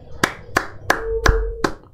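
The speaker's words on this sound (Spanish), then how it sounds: "Sí, aplaudo por mi solo." A man claps his hands for himself while playing the platform game Level Devil: five sharp, evenly spaced claps ring out close and loud over the course of about two seconds, with a faint steady tone in the background.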